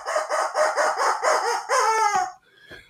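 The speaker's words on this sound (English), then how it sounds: "And the rubber chicken says," A rubber chicken squeezed in a quick run of about seven loud, squawking honks, each a strained rubbery crow, ending in a longer drawn-out squeal and a faint trailing rasp, with no talk.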